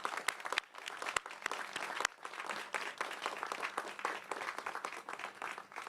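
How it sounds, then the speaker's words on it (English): A crowd applauding at a Connecticut COVID-19 vaccination press event in Vernon, a sustained, fairly distant round of clapping with sharper individual claps standing out, heard on its own. "Please join me in a round of applause to thank Governor Lamont"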